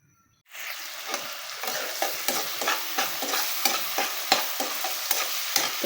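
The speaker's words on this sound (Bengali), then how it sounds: "তো পেঁয়াজটা এখন একটু মিডিয়াম আঁচে ভাজা ভাজা করে নেব।" Onions fry in mustard oil with cinnamon, cardamom and cloves in the pan, a steady close sizzle that starts abruptly, broken by repeated scraping stirs of a spatula.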